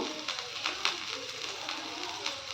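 Onions sautéing in a pan for cauliflower gravy give a soft, steady sizzle with faint crackles, low and continuous throughout.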